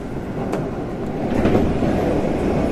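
Keio Liner limited express, a reserved-seat train bound for Shinjuku between Seiseki-Sakuragaoka and Bubaigawara, rolling along with a steady loud rumble, wheel clatter and rail noise heard from inside the car.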